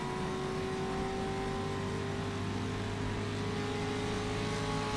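Simulated 1956 race cars from the rFactor 2 racing game roar steadily around an oval, a continuous loud engine drone with sustained tones and no break, no voices over it.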